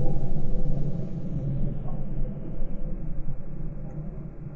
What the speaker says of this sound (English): Oh, there's a thunderstorm coming up.